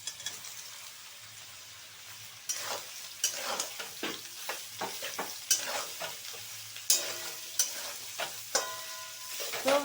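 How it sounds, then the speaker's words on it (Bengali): Soybean chunks and potatoes sizzle in a pan as they are stirred, with soft frying hiss building into repeated sharp scraping and crackling bursts, close and with no voices. "সয়াবিনটা দিয়ে একটু নেড়ে চেড়ে নিতে হবে।"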